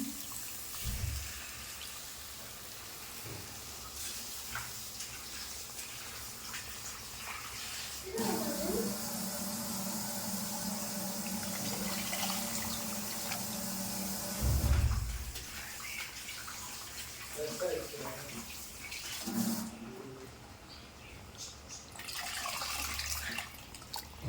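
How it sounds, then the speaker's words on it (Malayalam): A steady stream of tamarind water pours into a pot of fish curry for several seconds, splashing and trickling, with a few clunks and quiet handling noises around it. "പുളി ഒഴിക്കുന്നുണ്ട് ഞാൻ"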